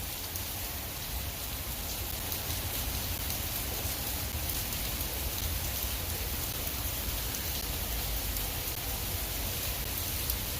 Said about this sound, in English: Getting a little misty and drizzly in here.